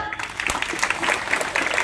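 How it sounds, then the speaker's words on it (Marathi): Dense, steady applause from a live magic-show audience fills the whole stretch as a birthday boy is called up on stage, loud and continuous with no break. "देवेश साठी जोरदार टाळ्या."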